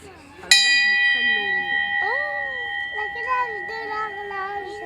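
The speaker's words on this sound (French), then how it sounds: "La cloche de l'horloge." A single bright clock bell strike rings out and sustains with a long shimmering decay, while children chatter in the background on a school walk in Nîmes.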